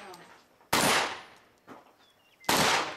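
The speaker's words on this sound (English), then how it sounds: "like 6 shots in a row" Mossberg shotgun firing at an action shooting match, three sharp, loud blasts with ringing decay in quick succession outdoors, the middle shot sounding weaker or farther away.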